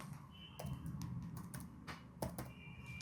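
Keys clicking on a computer keyboard while a registration form is filled in, a close, irregular patter of taps with a few sharper strikes over faint background noise.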